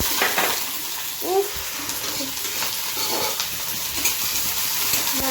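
Soybean chunks, two green chillies and onion frying in oil in a pan give a loud, continuous sizzle with stirring scrapes, and a faint voice briefly joins in.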